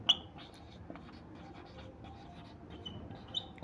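Writing on a board during a geometry lesson, with soft, close, continuous scratching strokes and a few sharper taps, quiet throughout.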